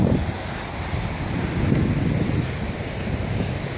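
Surf washing onto a beach along 17 Mile Drive, with steady broadband roar from breaking waves and gusty wind buffeting the microphone throughout.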